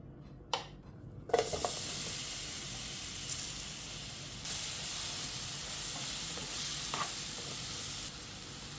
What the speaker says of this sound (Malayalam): ഇതിലേക്ക് കുറച്ച് നെയ്യൊന്ന് ഒഴിച്ച് കൊടുത്ത് നമുക്ക് ആ പഴം ഒന്ന് വരട്ടിയെടുക്കണം